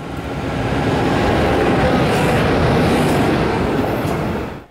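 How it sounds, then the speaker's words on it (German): Regional express train RE 19 on the Nürnberg–Sonneberg line via Bamberg and Coburg, a loud, steady rolling roar of wheels on rails with faint rhythmic clatter, fading out briefly at the very end. "Eine Fahrt mit dem RE19 Nürnberg-Sonneberg ist aktuell noch eine Reise über 100 Jahre Eisenbahngeschichte."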